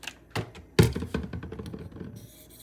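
Kampfe Bros Star straight razor blade being honed on a hone, a series of close, irregular taps and scraping strokes, one sharper knock near the start, then fading scratches.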